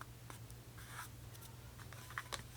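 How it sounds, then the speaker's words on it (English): A pen writing on a small label, with faint, close scratchy strokes in short bursts against a quiet room. "And I'm just going to write it on there."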